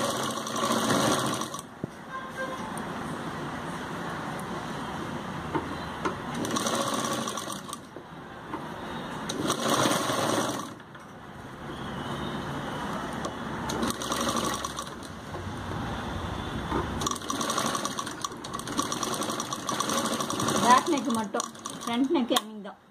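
A sewing machine stitches an umbrella kameez, whirring in long steady runs broken by short pauses, close and moderately loud, while someone talks over much of it.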